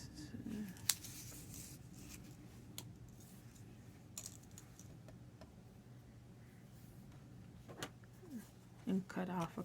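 Scissors snip through strands of white embroidery floss at a craft table, a few quiet, crisp cuts spaced apart at close range with faint rustling between them.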